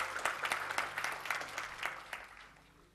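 Congregation applause at a church sermon, a steady wash of many hands clapping that gradually fades out toward the end.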